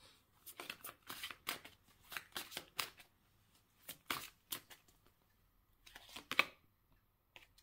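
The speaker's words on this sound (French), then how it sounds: "Je vais remettre d'autres cartes." Tarot cards are shuffled and laid out, with bursts of quick riffling and crisp flicks and slaps coming in uneven clusters, quiet and close, separated by short pauses.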